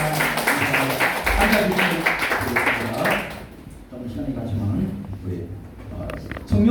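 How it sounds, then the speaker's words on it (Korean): A Korean church congregation at a Sunday worship service breaks into dense, steady applause for about three seconds, which then thins out under continued talking. "다시 한번 박수로 환영하겠습니다"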